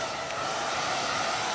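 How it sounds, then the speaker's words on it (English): A hair dryer blows steadily on freshly painted pumpkin yard art for Halloween, a constant airy whoosh with no breaks. "Okay, now blow dryer."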